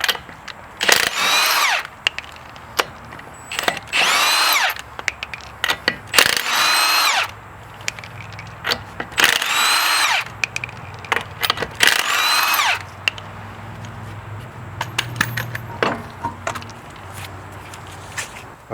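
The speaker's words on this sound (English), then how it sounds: "we want to go ahead and take the lug nuts off. In my case, they're 21 millimeter." An impact tool removes 21 mm lug nuts from a 2004-2013 Mazda 3 front wheel in repeated loud bursts of whirring and rattling hammering, separated by short pauses with clinks and handling noises.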